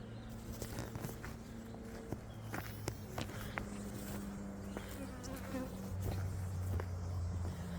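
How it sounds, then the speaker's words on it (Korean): Honeybees drone around a hive in spring, a continuous near buzz with individual bees passing close to the mic and faint rustling footsteps beneath, no talking. "벌이 지금 앵앵대고 있네"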